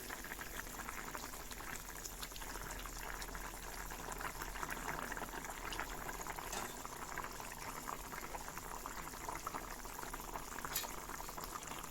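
A pot of rohu fish and pointed gourd curry boiling, a faint, continuous bubbling simmer that stays even throughout, with no voices.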